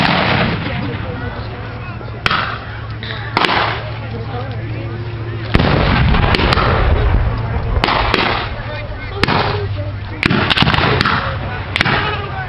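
Civil War reenactment cannons at a Gettysburg battle reenactment fire repeatedly, loud booming blasts every second or two over a steady low rumble and crowd noise, with faint voices in the background.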